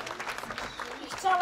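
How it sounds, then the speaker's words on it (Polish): Concert audience applauding at a show in Białystok, a short steady spell of clapping from a crowd with a voice speaking over it. "Wielkie brawa!"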